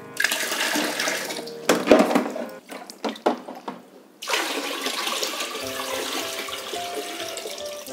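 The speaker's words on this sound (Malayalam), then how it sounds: "നമ്മൾ വീണ്ടും കുറച്ചുകൂടെ വെള്ളം ഒഴിച്ചു കൊടുക്കുകയാണ്" Water poured into an ornamental fish tank, a close splashing gush broken by a few bursts before a steady, lighter trickling pour resumes.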